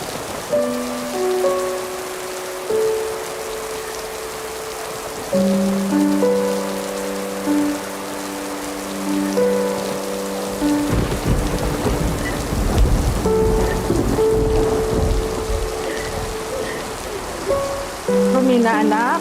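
Rain pours steadily with rumbling thunder during a heavy storm, a dense wash of noise rising louder in the second half, mixed with sustained musical tones from a dramatic soundtrack.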